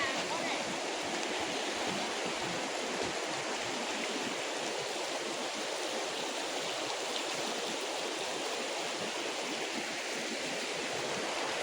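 A river on the Assam to Arunachal route rushes in a dense, constant roar of flowing water, loud and unbroken throughout.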